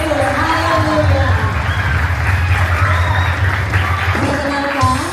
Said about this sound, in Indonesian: Kita tepuk tangannya buat Tuhan Yesus.